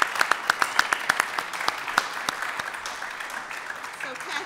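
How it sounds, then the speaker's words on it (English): Audience applause at a boxing gym press conference and ribbon cutting, opening with distinct sharp claps that thin into a steady, softer patter, with no talk over it. "Let's have one more round of applause for this amazing group."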